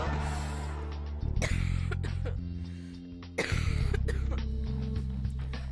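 A person coughs repeatedly and harshly up close, with several rough, throaty bursts and throat clearing separated by short pauses.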